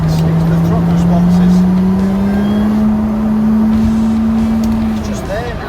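Lotus Exige V6 fitted with a 2Bular exhaust, engine droning at a steady, slowly rising pitch as the car pulls under throttle, loud and close with someone talking over it.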